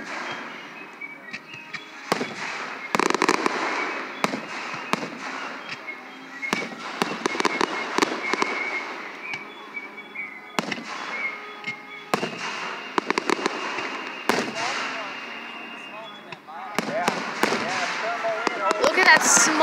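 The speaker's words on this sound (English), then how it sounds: "Fireworks are made and work." Fireworks burst in repeated loud cracks and booms, some in quick clusters and others spaced apart, with crackling tails between them and people talking throughout.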